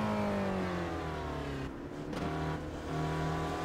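Several Spec Racer Ford race cars scream past on track at Mid-Ohio Sports Car Course, engines rising and falling in pitch as they come close and pass in a loud, continuous wash of revving.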